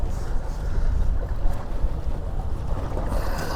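Wind buffets a fishing boat out at sea, a steady low rumble of gusts across the microphone mixed with water and hull noise, loud and continuous throughout with no talking.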